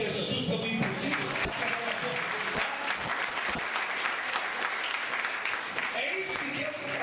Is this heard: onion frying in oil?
no